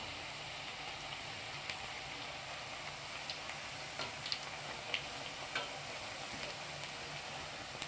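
Ragi roti (finger millet flatbread) frying in oil in a pan: a faint, steady sizzling hiss with scattered soft crackles and pops, no voices.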